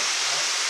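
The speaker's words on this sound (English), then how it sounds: "I just heard some steam let off here" Steam venting from a Cumbres and Toltec narrow-gauge steam train, a steady loud close hiss filling the whole short moment with no pauses.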